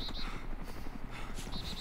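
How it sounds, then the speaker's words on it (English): A helicopter in the Arma 2 DayZ mod drones in the distance as it passes overhead, a low rumbling whir sitting faintly under the game's ambient noise. "I can hear a helicopter going over."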